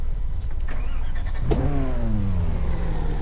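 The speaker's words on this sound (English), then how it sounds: "Let's start the engine up." A McLaren P1 engine in the video game Test Drive Unlimited 2 cranks and fires up about halfway through, settling into a steady low idle hum after a brief rising whine.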